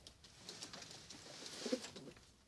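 Adana pigeons, kept indoors out of the snow, give soft, quiet coos and a few low burbling calls against a hushed room, with no voices.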